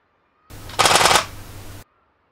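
Rapid burst of a camera shutter firing in high-speed continuous shooting, a fast clatter of clicks lasting about a second, close and loud against near silence, set up for wildlife photography of leaping salmon.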